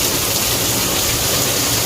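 Heavy rain pours down in a steady, dense roar of drops drumming on surfaces, loud and unbroken throughout.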